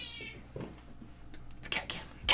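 Cats meowing and yowling in a scuffle, heard faintly at a distance over a quiet background, with a louder burst near the end.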